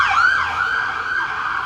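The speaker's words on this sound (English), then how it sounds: "Let the ambulance pass." An ambulance siren passes nearby on the road beside a container vegetable garden, its loud wailing tone sweeping up and down continuously.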